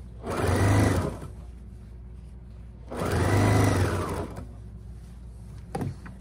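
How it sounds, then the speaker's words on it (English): Sewing machine stitching along a fabric edge for kimono-style sleepwear, two whirring bursts of rapid mechanical stitching separated by a pause, close and clear, followed by a brief click. "you'll see here I'm stitching right along the edge"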